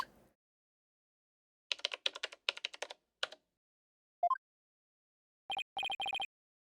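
Keyboard typing from the video game Phoenix Wright: Ace Attorney – Spirit of Justice, heard as a few short bursts of rapid clacking keystrokes, followed by a rising blip and a run of quick electronic beeps, with no talking.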